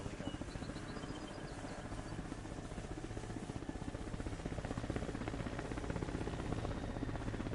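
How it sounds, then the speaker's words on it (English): A helicopter in the console war game ArmA Reforger on PS5, heard as a loud, steady rotor thump with a whining drone throughout, close and unbroken, with no talk over it. "Let the heli go."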